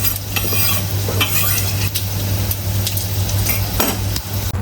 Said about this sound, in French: dans ma poêle bien chaude, je vais y mettre mes pommes de terre